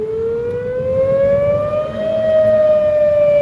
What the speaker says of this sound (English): Tornado sirens are going off.